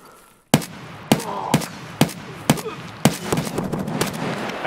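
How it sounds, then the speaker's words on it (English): Gunfire in the video game Escape from Tarkov, a run of about seven loud, sharp single shots at roughly half-second intervals, close and punchy with short echoing tails. "did you hear how many shots I hit on that guy?"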